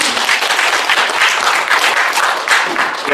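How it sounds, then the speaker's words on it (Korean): Live audience at a Korean speech lecture claps in a dense, steady round of applause, loud and close throughout with no talking over it. "여러분 박수를 치셨는데 저를 위해서 치셨잖아요"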